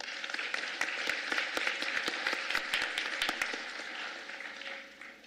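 Audience applause at a university freshman convocation ceremony, scattered distinct claps over a steady wash that gradually fades toward the end.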